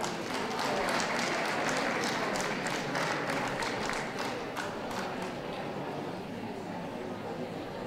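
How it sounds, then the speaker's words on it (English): Steady applause from a dog show crowd, continuous clapping throughout that gradually softens toward the end. "I can hear some applause coming"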